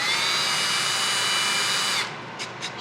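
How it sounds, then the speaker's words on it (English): A power drill whirs steadily at high speed, starting a bench dog hole in a wooden workbench, loud and close, then winds down abruptly near the end with a couple of short bursts. "I'm going to use my drill"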